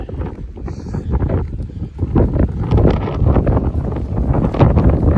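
Gusty wind buffets the microphone on an exposed, high section of the Pacific Crest Trail in Northern California, a loud continuous rumbling roar that swells and surges throughout.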